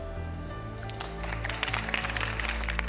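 An audience applauds dancers on a street dance competition stage, the clapping swelling after the first second into a dense wash over background music.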